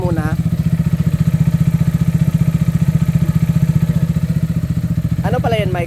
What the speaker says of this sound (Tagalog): Maingay niya sa barbula, so kailangan natin siya i-adjust.